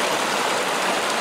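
A stream and small waterfall running high after three days of steady rain give a continuous, close rushing roar of water that holds steady throughout with no voices.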